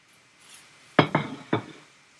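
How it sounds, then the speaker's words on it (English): Sliced apples drop into a skillet in three quick, distinct clinks and thuds, close and fairly loud over a quiet kitchen background. "Slice them up. And we're going to add it to our skillet."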